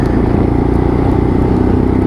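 A Lexmoto LXR-SE motorcycle riding along a road in fifth gear with low revs, a loud, steady close engine drone mixed with wind rumble for a couple of seconds, no voices.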